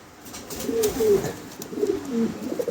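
Modena and American Giant Modena pigeons on a farm give repeated low, throaty coos in two clear bursts, close by over a soft background hiss.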